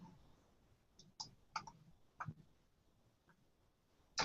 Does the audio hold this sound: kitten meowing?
no